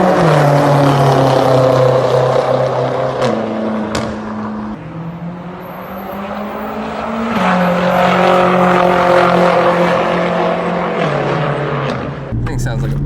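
A deep, growling exhaust from a BMW F10 M5 with titanium straight pipes drones loudly through sustained revs that shift pitch in steps, as if under acceleration, while someone talks over it.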